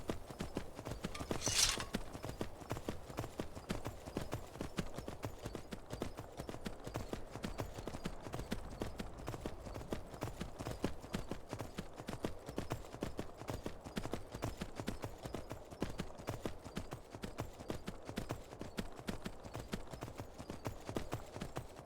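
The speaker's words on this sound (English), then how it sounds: "Gotta love that horses are the one thing that break the mountains in this game." Horse hooves clip-clopping steadily in Skyrim on the Switch, a continuous close rhythmic patter of hoofbeats running the whole stretch with a brief whoosh near the start.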